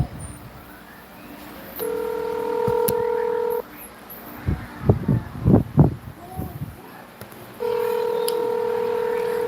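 A phone keypad sounds two long, steady dialing tones, separated by a stretch of muffled rustling and handling noise.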